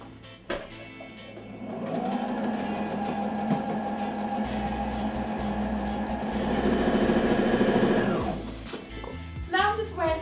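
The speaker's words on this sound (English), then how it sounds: "So after putting the pins in, I'm now going to sew the edge again." A sewing machine runs steadily for several seconds, stitching the edge of a homemade dress, its close mechanical whirr starting abruptly and stopping near the end with a few handling clicks.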